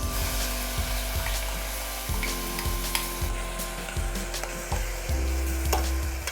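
Onion and cauliflower fry in oil for a tofu topping, a close, loud, steady sizzle with rhythmic scraping and stirring strokes of a spoon against the pan.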